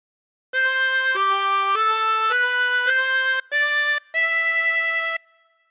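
A 24-hole tremolo harmonica plays a phrase of God Defend New Zealand, clear wavering reedy notes held one after another with brief gaps near the end, alone and fairly loud.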